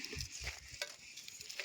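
Whole spices dry-roasting in a pan for a rustic village chicken curry, giving a soft crackle and sizzle with light stirring scrapes, close and fairly quiet.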